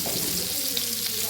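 Idimutta frying in hot oil, a loud, continuous close sizzle and bubbling with no break across the short moment.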